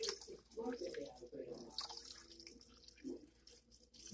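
Water running from a tap beside a pot for turkey soup, a faint splashing trickle in a home kitchen with a person talking over it throughout.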